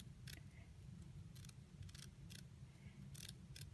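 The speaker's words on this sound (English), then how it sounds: "Anyway, so you're just going to cut all the way down." Scissors snip through burlap ribbon in short, sharp crisp cuts, about seven quick snips in irregular rhythm over a low, quiet background hum.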